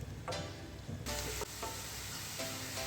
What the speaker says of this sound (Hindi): ये प्याज मैं इसी ऑयल में ऐड कर दूँगी और प्याज को हम थोड़ा सॉफ्ट होने देंगे